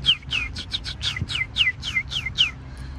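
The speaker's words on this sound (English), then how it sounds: "Look at a little teeny-weeny bird" A small bird chirps about a dozen quick, high, down-slurred notes in a steady rhythm, close and clear, on a downtown walk through Hartford, Connecticut, with faint low street noise beneath.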